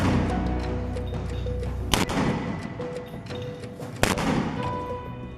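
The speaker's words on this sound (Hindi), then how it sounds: "इस वीडियो में कई रॉकेट्स और 60 कैलिबर मोटर लॉन्चर में भरे नजर आ रहे हैं और फिर हमास का लड़ाका एकाएक इन्हें आईडीएफ की तरफ दाग देता है।" Rockets and 60-calibre mortar rounds are launched by Hamas fighters toward Israeli forces. Two sharp, loud bangs sound about two seconds apart over a constant rumbling background.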